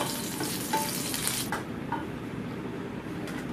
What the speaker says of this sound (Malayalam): ഇനി ആ എണ്ണയിലേക്ക് തന്നെ നമ്മൾ മുളക് ഇട്ട് കൊടുക്കുകയാണ്. മുളകും നമ്മൾ നല്ലവണ്ണം വറുത്തെടുക്കണം